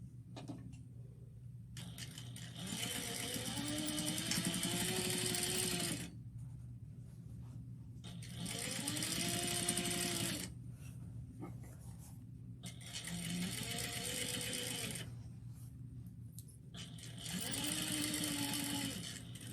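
A sewing machine stitches a straight seam in four separate bursts of a few seconds each, with quiet pauses between them, heard close up and clear.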